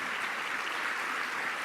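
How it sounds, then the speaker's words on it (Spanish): Applause welcoming Dr. Humberto Maturana onto the stage at a sustainable development conference in Chile: dense, steady clapping from a large audience, continuous and even with no voices over it. "Recibimos con un gran aplauso al doctor Humberto Maturana."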